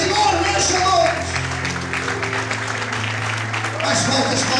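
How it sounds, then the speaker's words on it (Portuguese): A church congregation applauding and praising the Lord at an evening service, broad sustained clapping over steady organ-like tones and voices, loud and continuous from start to finish. "Todos podem aplaudir e exaltar o Senhor nesta noite"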